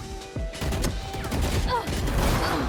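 Gunfire in the video game Valorant, a rapid burst of shots and weapon mechanisms played back close, with someone talking over it.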